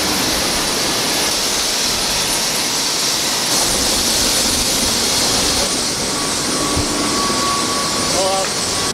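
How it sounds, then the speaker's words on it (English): Blade helicopter taxi ferrying a passenger to the airport in New York, heard from inside the cabin as a loud, steady, unbroken turbine and rotor roar with no pauses. "This is me taking a helicopter, not a taxi or an Uber, a helicopter to the airport."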